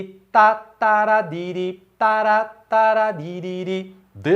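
A voice sings a syncopated samba duro drum rhythm without ghost notes, with clear, separate syllables and short pauses, imitating percussion.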